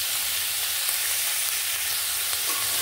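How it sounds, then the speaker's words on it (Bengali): Vegetables are stirred through hot oil and tempering spices in a pan, a steady close sizzle with soft scraping and stirring running the whole time, no voices. "ফোড়নের সঙ্গে সবজিগুলোকে মিশিয়ে এইভাবে নেড়ে নিচ্ছি।"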